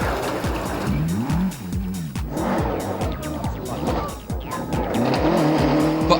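Finnish rally cars spinning out on a stage, with loud, continuous tire squeal and skidding layered over roaring, revving engines, several bursts and slides in quick succession.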